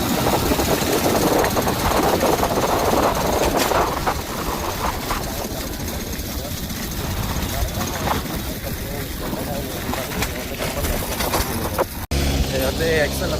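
An XL moped on the move, its small engine droning steadily with wind rush throughout, while someone talks over the ride.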